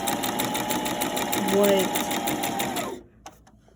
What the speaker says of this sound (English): after I do the zigzag stitch on it about 3 times